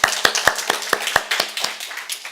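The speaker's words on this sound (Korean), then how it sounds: "우리 큰 박수로 축하하겠습니다." A church congregation claps in celebration of a birthday, with a run of loud, evenly spaced claps that gradually thin out and fade toward the end.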